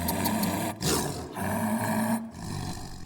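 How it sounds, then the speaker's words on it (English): A tiger roars, two long rough rumbling bellows separated by a brief pause, loud and close. "Then the tiger bounded up and roared."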